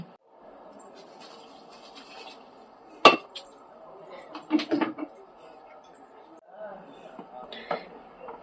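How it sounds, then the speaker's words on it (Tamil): Coconut milk halwa being stirred with sugar in a pan, with a sharp utensil clink and a few clattering scrapes against the metal while a person talks. "இப்போ நல்லா கலந்து விட்டுக்கலாம்"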